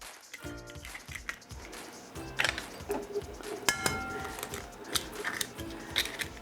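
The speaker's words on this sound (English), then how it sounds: "So we're going to add 3 eggs to the bowl." Three eggs cracked one after another into a mixing bowl for Italian pizzelle cookie batter, with sharp clinks and taps of shell against the bowl rim and small kitchen clatter, close and fairly quiet.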